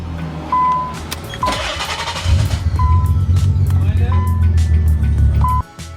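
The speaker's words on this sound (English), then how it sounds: "Next thing is to start it up and see what we get." A Nissan 300ZX, fitted with an AEM wideband sensor, is started: warning chimes ring, the starter cranks briefly, then the engine catches and settles into a loud, steady idle, with a person speaking over it.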